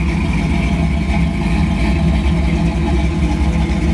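A 1957 Chevrolet Bel Air's small-block V8 idles steadily, a loud continuous low rumble with an even, unbroken texture and no voices.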